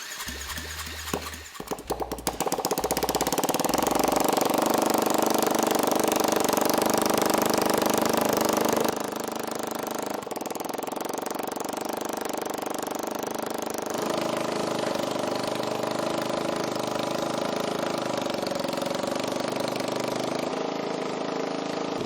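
A repowered Supercox engine, the chassis fitted with a clutch, cranks and catches, then runs loud and steady with a rough mid-pitched drone in a workshop, settling to a slightly lower running note partway through.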